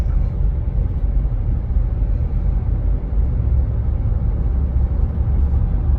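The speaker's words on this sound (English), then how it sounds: "Barely touching the gas, and it just gets up to speed like nothing" A 2018 GMC Yukon Denali accelerates under light throttle, its engine rumbling low and steady from inside the cabin with a continuous road drone, gear changes blending into the smooth hum.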